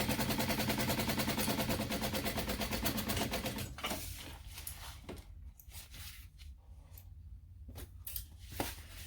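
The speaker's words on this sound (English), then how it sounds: "we're going to stitch this, sew this on at 1/4 inch seam allowance" A sewing machine stitches a quarter-inch seam on a mini backpack, running with a fast, steady, close mechanical chatter for about four seconds. It then stops, leaving scattered clicks and rustling of fabric being handled.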